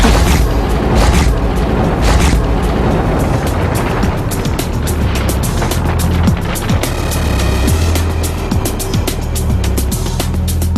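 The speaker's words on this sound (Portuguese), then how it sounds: "E temos uma explosão abaixo do solo." An underground explosion from a projectile impact test gives a dense, continuous rumbling roar with low booms and sharp crackling bursts throughout, loud and sustained with no pauses.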